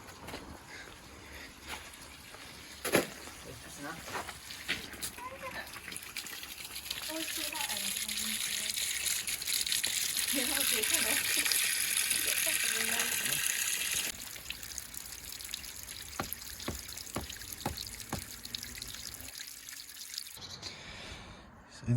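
Hose filling a koi fish pond with water, a steady gushing trickle with drips that swells and then eases, with people chatting over it outdoors.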